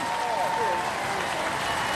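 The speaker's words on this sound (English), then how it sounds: "Ladies and gentlemen, give them a round of applause." Faint crowd applause at a televised robot combat grand final, a soft continuous wash of clapping heard at a distance with a thin high tone sliding through it.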